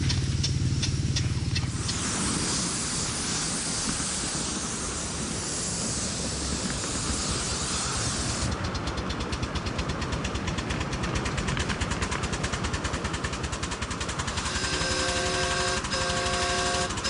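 A live steam model locomotive at a club track in Kirtland, Ohio runs with a continuous rapid chuffing and mechanical knocking, steady and fairly close, with sharp shifts in tone partway through and a whistle-like tonal sound near the end.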